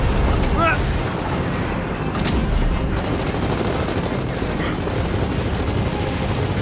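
Rocket blasts and gunfire from the shooter Gears of War 4, a dense, constant barrage of booms and rattling shots with no letup, and voices sometimes audible beneath the din.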